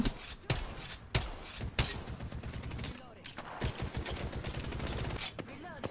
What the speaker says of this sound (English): Somebody else shooting at me?